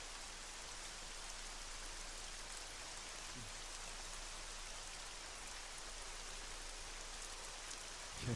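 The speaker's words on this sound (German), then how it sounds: "War dieser Regen, ey." Steady rain hisses in ArmA 3, a soft, even wash of raindrops that continues without a break and stays faint throughout.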